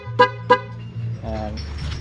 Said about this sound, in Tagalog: Tapos yung busina,